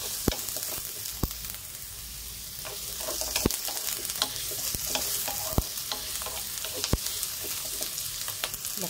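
Onion and garlic sauté in hot coconut oil, a steady bright sizzle broken by sharp clacks of a utensil stirring against the pan, close and alone.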